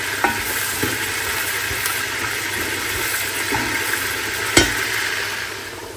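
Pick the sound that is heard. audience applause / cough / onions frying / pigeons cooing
onions frying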